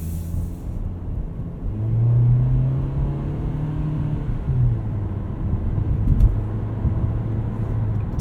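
A 2020 Nissan Kicks SR with CVT accelerates while driving, a steady low engine drone that swells slightly then holds under road and cabin noise, no voices.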